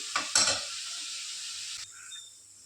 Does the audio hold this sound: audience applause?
no